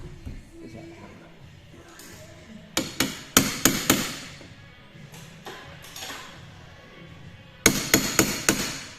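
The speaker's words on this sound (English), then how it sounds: "Is that hammer?" Hammer blows on metal during a Toyota Celica SSII engine swap, a scattered series of sharp, ringing impacts in uneven clusters, loud and close against a quiet garage background.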